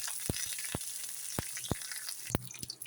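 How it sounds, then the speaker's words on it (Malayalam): Dried chili and curry leaves fry in coconut oil for a Kollam-style sardine peera, giving a quiet, steady sizzle broken by several sharp, irregular pops and crackles. "ഇനി വെളിച്ചെണ്ണയ്ക്കകത്ത് ഈ മുളക് മാത്രം വറുത്തെടുക്കണം."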